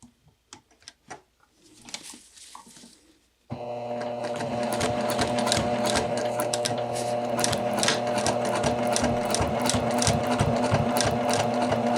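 A sewing machine stitches through thick layers of jacket fabric at the lapel facing. A few soft rustles come first, then loud, steady, rapid stitching runs without a break to the end.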